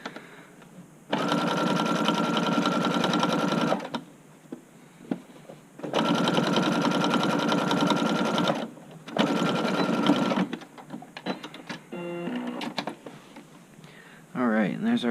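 Sewing machine top stitching the yoke of a button-up shirt runs in three loud, steady bursts of rapid needle chatter separated by pauses, followed by shorter stuttering runs and handling clicks near the end.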